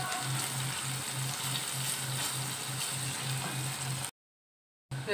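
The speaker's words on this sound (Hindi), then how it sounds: "मैंने एक दरमियाने साइज़ की प्याज ली है और उसको जो है मैं ब्राउन कर रही हूँ" A medium onion browning in about three tablespoons of oil, giving a close, steady bubbling sizzle with a faint low rhythmic hum beneath, then a sudden cut to silence near the end.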